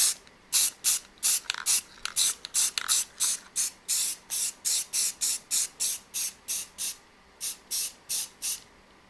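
Black spray paint hisses from an aerosol can onto laser-engraved wood in about two dozen short, even bursts, close and crisp, with brief pauses between strokes and no talking.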